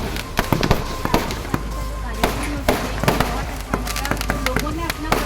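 Fireworks bursting at the Dewa Sharif fair, a rapid series of sharp cracks and pops scattered across several seconds, with crowd noise and voices underneath.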